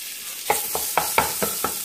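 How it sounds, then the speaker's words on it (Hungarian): Bacon pieces, two kinds of bacon together, hit a hot pot for lentil stew and crackle with a steady sizzle, with several sharper stirring scrapes at regular intervals and no talk. "legelső lépésként szépen beletesszük a szalonnánkat, így indítjuk el"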